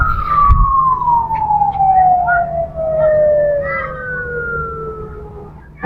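A police car siren wails in a long, steady falling tone. It is clear and fairly close along a busy coastal road, with faint background noise and no talking over it.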